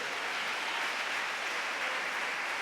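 A church congregation claps together in worship, a steady, dense wash of applause lasting throughout without breaks, fairly loud and close, with no voices above it.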